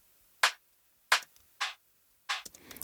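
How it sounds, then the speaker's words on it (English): Two sampled snare drums sound on their own in four crisp, isolated hits with brief gaps between, each a bright snappy crack that decays quickly, fairly quiet overall. "Then we have two sample snares."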